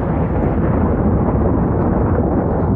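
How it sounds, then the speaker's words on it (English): Thunder in a Garry's Mod Star Wars roleplay game: a steady, muffled low rumble that rolls continuously at a loud level with no talk over it. "Whoa, you guys hear that thunder?"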